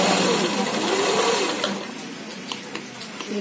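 Sewing machine stitching around the skirt of an umbrella gown: a steady close mechanical whir through the first half, then quieter running with a few light clicks, a voice faintly underneath.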